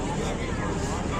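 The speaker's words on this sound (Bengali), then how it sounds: "এই যে লঞ্চ ছেড়ে দিয়েছে।" A passenger launch pulls away on the Ganges, a steady broadband engine and water rumble that stays loud and constant throughout, with wind buffeting the microphone.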